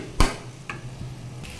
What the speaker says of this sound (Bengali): এদিকে শাকটা নেড়ে চেড়ে ঢেকে দেবো